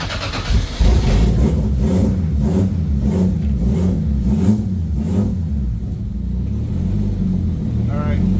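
An Infiniti Q45 that has sat for seven years runs close by, its engine rumbling and surging briefly as it is put in gear, with people talking over it.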